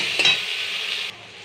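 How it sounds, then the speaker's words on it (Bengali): Raw green banana pieces, salted and turmeric-coated, fry in mustard oil in a wok, giving a steady, close sizzling hiss that runs without pause and eases slightly near the end. "সামান্য নুন দিয়ে আমি এবার কাঁচকলাটা একটু ভেজে নেব"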